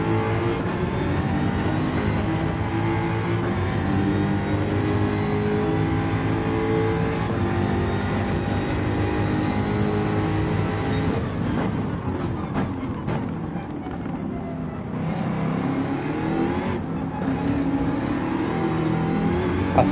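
Gr3 race car engine in Gran Turismo 7 at Fuji, a continuous loud droning engine note with rising and falling revs and brief dips during gear changes through a chicane.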